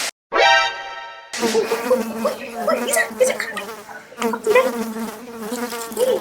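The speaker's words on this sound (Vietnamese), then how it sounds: "ruồi to thế, đi ra chỗ khác đi. Ôi, bay vào đây thế." A large fly buzzes close by in a shopping area in Singapore, its drone rising and wavering over several seconds while someone talks over it.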